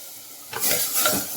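Sliced okra and onions frying in a pan, a quiet sizzle that suddenly swells into loud bursts of hissing and crackling as the pieces are stirred, close and with no voices.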